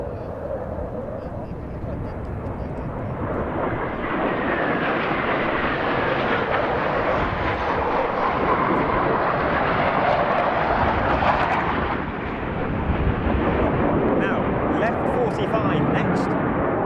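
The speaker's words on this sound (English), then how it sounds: "a 2 versus 2 opposition pass," Black Eagles display jets performing a two-versus-two scissor cross pass at an air show, a loud continuous roar of jet engines swelling and sweeping overhead for the whole stretch, with some speech woven in.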